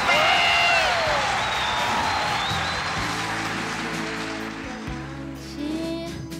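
Studio audience applause in a TV variety show taping, a dense clapping wash that fades under music.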